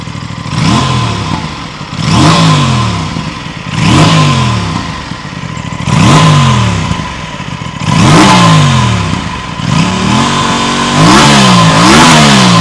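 Aprilia RS 457 motorcycle engine revved hard in repeated loud, rising-and-falling bursts about every two seconds, with a steady idle between blips.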